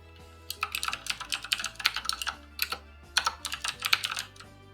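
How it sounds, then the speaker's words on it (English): Fast, uneven bursts of computer keyboard typing fill the space close to the microphone, with clusters of sharp key clicks separated by brief pauses, and no talking over them. "I'm just hoping my keyboard isn't too loud now."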